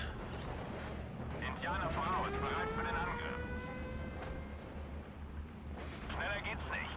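Off-map artillery fire in the WWII strategy game Steel Division: Normandy 44, heard as a steady rumbling barrage with booming bursts under continuous battle noise, a rising siren-like whine and someone talking over it.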